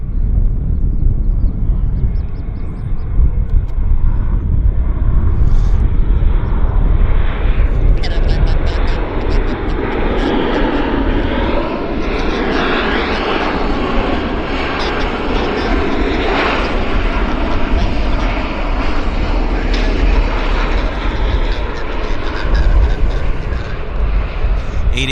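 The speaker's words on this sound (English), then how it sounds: "United Airlines landing very nicely." A United Airlines airliner inbound from San Francisco lands at Vancouver airport, a loud, steady jet roar that swells slightly and holds for the whole stretch.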